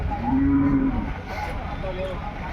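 Bulls low in a deep, sustained moo followed by a second fainter call, heard outdoors at a rural bull event with steady crowd and ambient noise beneath.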